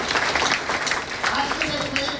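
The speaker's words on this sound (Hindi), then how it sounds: "जोरदार ताली होना चाहिए" Audience applause at a training seminar, a steady dense patter of clapping throughout, fairly loud and continuous with crowd noise.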